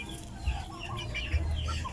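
Chickens cluck in short, soft bursts close by, a couple of low throaty notes standing out over a quiet farmyard background.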